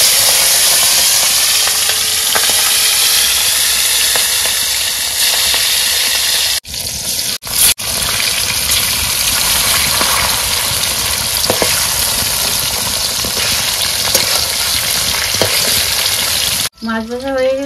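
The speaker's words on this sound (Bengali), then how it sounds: "তেল গরম হয়ে গেছে, মাছ দিয়ে দিলাম।" Fish coated in turmeric and salt frying in hot oil, a loud, steady close-up sizzle and crackle that runs almost unbroken, with a couple of brief dips as the pan is handled.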